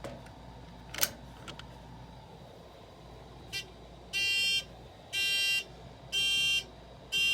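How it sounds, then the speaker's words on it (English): A Simplex 4100 fire alarm panel's re-alarm buzzer sounds in four loud, steady, evenly spaced bursts of about half a second each, following a few sharp clicks and a quiet room hum. "It puts the panel back into alarm"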